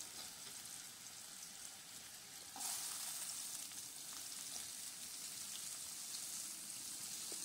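Potatoes fry in oil in a steady, moderately quiet sizzle that swells louder partway through, with faint stirring scrapes and no speech.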